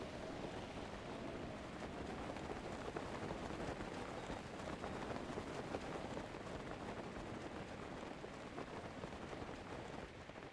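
Steady rain in the Zelda: Breath of the Wild video game, a dense, even hiss of falling drops that holds at the same level throughout without pause.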